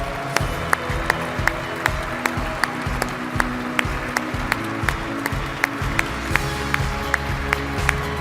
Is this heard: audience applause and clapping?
yes